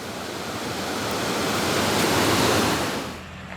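A creek in Appalachia rushes toward the Little Tennessee River, a dense, continuous wash of flowing water that swells gradually and then eases off, with no voices.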